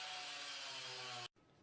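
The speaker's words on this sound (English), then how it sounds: "I'll cut a piece of angle iron to go in front of the fireplace." A piece of angle iron is cut with a loud, continuous, close-up grinding rasp that runs for just over a second, stops abruptly, and leaves a softer lingering hum.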